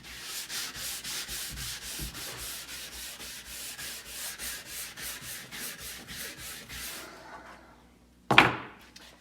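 A soft bristle brush sweeps over a ski base in a quick, steady run of about twenty close, scratchy strokes, then stops. A single louder knock or tap follows near the end.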